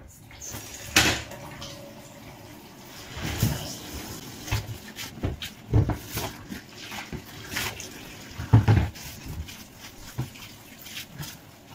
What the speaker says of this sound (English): Now we are going to rinse until all the colour is gone.